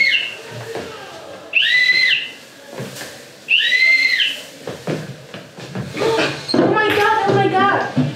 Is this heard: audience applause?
no